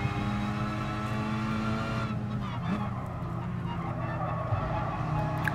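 Renault Megane race car in GT Sport, a steady buzzing engine drone that shifts pitch partway through, with faint tyre squeal and other cars nearby, no voices.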